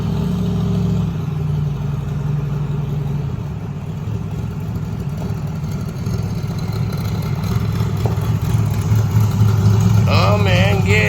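An old work truck's engine runs at a steady idle close by, a continuous low rumble that swells slightly toward the end.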